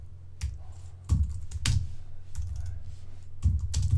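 Keys clatter on a computer keyboard in short uneven bursts of close, crisp clicks with brief gaps between them.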